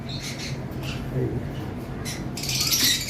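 Lovebirds at a bird farm give short, sharp squawks and chirps in scattered bursts, growing louder near the end, while a person talks nearby.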